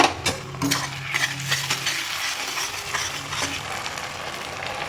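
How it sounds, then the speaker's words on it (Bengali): Ginger garlic paste sizzles loudly in a hot pan as a spoon stirs and scrapes through it in quick, uneven strokes, close up and with no voices. "আদা রসুন পেস্ট এর মধ্যে দিয়ে দেবো।"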